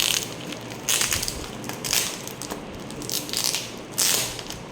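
A packaged return gift piece is opened by hand, giving a run of crinkling, crunching packaging noises in several bursts, close and fairly quiet, with no voices.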